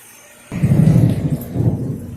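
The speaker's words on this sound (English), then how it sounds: "wow, we got a 15-minute video of rain" Heavy rain with thunder: after a brief hush a loud rumble of thunder breaks in over a dense, steady roar of rainfall, close and without voices.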